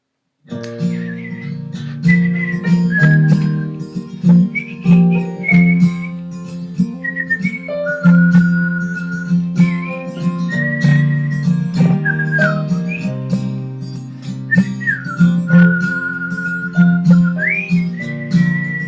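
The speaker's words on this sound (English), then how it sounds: "it starts with a whistle" A person whistles a bright melody close and clear over a steady backing accompaniment, the notes held and sliding between pitches for about nineteen seconds, with no talking.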